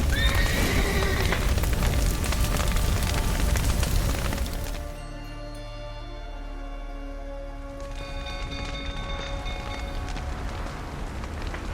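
Horses neigh and whinny in The Witcher 3 amid loud crashing game action, with hoof clip-clop, then the scene drops to a quieter stretch with faint ambience.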